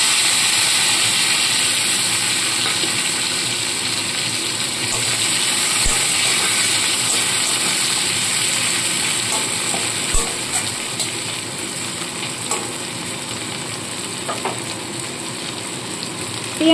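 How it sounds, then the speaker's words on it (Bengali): Chopped onion and tomato frying in hot oil tempered with nigella seeds and a green chili for a small-fish curry, giving a steady, loud, continuous sizzle with a few faint clicks. "এবার এখানে যে কুচনো পেঁয়াজ আর টমেটো রয়েছে সেটাও কিন্তু দিয়ে দেব।"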